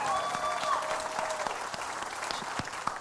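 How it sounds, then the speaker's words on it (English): A concert audience claps steadily for about three seconds, dense and sustained applause with a few louder individual claps near the end. "can we give a round of applause?"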